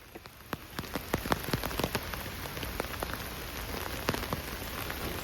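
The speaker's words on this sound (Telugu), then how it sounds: "వర్షం మాత్రం చాలా హెవీగా కురుస్తుంది" Heavy rain falls steadily on a deep-forest creekside campsite during a tent setup, a dense, close patter broken by sharp individual drops striking nearby surfaces, with no one talking.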